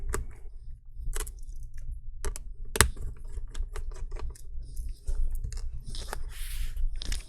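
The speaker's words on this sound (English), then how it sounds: "using a Torx T8, I'll be removing 3 screws here on the right that is holding down the LCD screen" Small Torx T8 screwdriver clicks and scrapes while removing the LCD screen screws on a MacBook Pro A2338, faint close-up ticks and taps over a low background hum.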